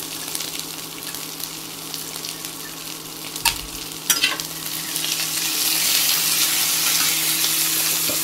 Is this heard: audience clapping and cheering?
no